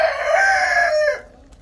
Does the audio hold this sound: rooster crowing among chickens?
yes